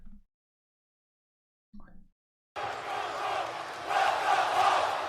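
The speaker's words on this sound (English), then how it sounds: "the Clash at the Castle crowd chant welcome home for the UK girls" A large wrestling arena crowd at Clash at the Castle in the UK roars and chants in unison after a few brief quiet moments, a dense, loud, distant wall of voices.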